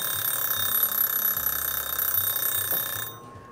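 A kitchen oven's dial timer rings with a steady, continuous metallic bell for about three seconds and then cuts off abruptly, loud and close, with no talking.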